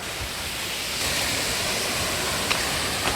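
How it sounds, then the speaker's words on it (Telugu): Steady roaring rush of the Badvel waterfall, a dense broadband wash of falling water heard close and loud throughout, with no voices and only slight shifts in intensity. "చూడండి సూపర్గా ఉంది కదా వాటర్ ఫాల్స్."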